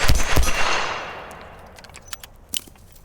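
A double action Taurus revolver fires two loud, quick shots close by, followed by a long ringing decay and a few small metallic clicks; no talking.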